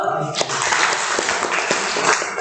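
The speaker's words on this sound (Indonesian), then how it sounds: "Tepuk tangan dulu." Children in a classroom clap together after a teacher asks for applause, a dense patter of small hands that starts abruptly and runs steadily throughout, with a voice briefly audible at the start.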